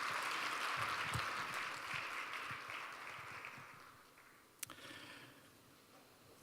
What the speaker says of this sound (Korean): 여러분 시장님께 큰 박수를 좀 드리겠습니다.